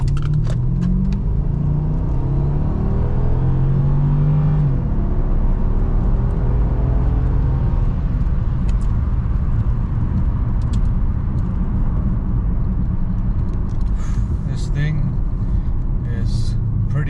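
A 2012 Mercedes CLS 550 4Matic on air suspension in sport mode, engine rising in a loud sustained rev and pull as it accelerates, a steady heavy rumble under people talking throughout.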